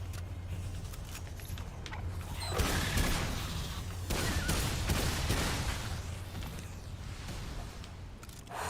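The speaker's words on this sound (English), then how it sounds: "Dude could summon orbital laser cannons." Orbital laser cannons blast down in the video game Remnant 2, a dense rumbling barrage of booming impacts and crackling bursts that swell around the three- and five-second marks, with no talking.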